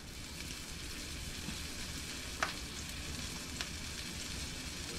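Floured rabbit pieces fry in a hot pan for stew, giving a steady, close sizzle and crackle throughout, with a couple of brief sharper pops.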